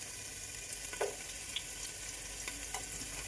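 Whole spices, onion and capsicum sautéing in a pan: a faint, steady sizzle with a few soft scrapes of stirring, no voices.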